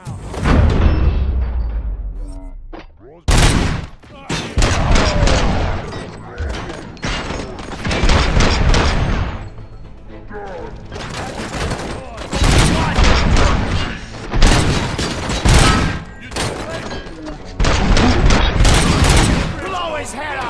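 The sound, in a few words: gunshots in Robocop Rogue City video game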